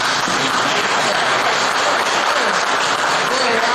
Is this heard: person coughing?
no